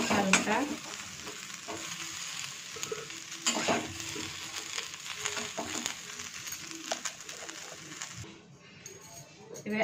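Soybean chunks frying in hot oil: a soft, steady sizzle with scattered clinks and scrapes of stirring, heard close up and at low volume.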